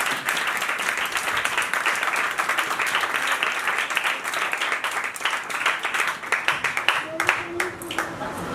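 Church congregation at a Sunday service applauding, a dense steady wash of many hands clapping throughout, easing and thinning near the end as a voice briefly comes in.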